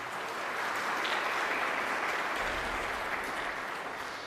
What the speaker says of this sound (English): Let's give them a little round of applause.